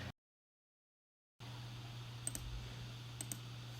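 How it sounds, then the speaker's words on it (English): Two pairs of short mouse clicks on a computer, small and close, about a second apart after a stretch of silence, over a steady low electrical hum. "I'm going to go ahead and click open."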